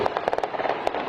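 A rapid burst of sharp cracking bangs, gunfire at a crowded public fan event with people screaming, several shots in quick irregular succession, loud against a noisy background.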